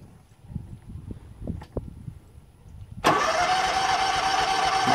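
A zero-turn mower's engine cranks and catches after a few seconds of quiet clicks and rustling, then settles into a loud, steady close-up running drone.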